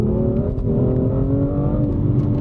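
A turbocharged BMW M2 engine revs hard and loud, a steady close-up drone of rising engine note with no talking.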